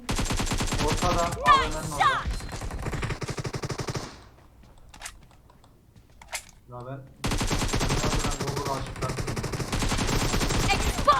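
Automatic rifle fire from an AKM in PUBG Mobile comes in dense, rapid bursts, loud and continuous at first. It pauses briefly with sparse single shots, then resumes in a heavy sustained stream. Players chatter over it.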